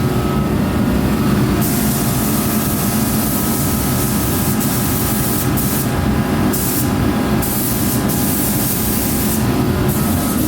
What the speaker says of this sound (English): First coat of the clear coat.